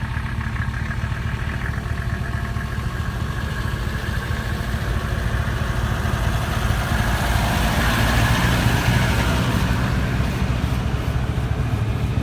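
A Mercedes 300SD diesel car rumbles steadily as it pulls away, its engine note growing somewhat louder and rougher toward the end, with no voices.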